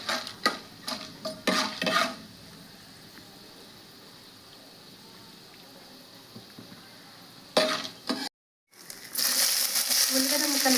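Onion pieces, curry leaves and green chilli stirred in a hot pan for a taro-leaf and potato fry, with a few scraping stirs early on, a long quiet stretch, then a louder burst of steady sizzling near the end.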